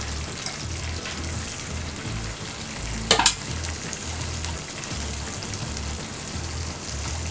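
Spleen pieces dropped into reduced masala in a hot pan give a loud, continuous close-up sizzle with a hiss like rain, and one brief sharp clatter partway through.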